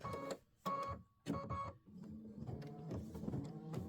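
Aveneer embroidery machine stitching OESD Boo Manor tiles in a 6x10 clip, a close, steady mechanical whir with rapid needle bursts that pause and restart in short clustered runs.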